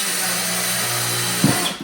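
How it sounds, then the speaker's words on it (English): A power drill bores drainage holes into a plastic container for winter sowing, a steady close whirring motor drone running alone for nearly two seconds before a brief bump as the bit pushes through. "So I have my drill bit,"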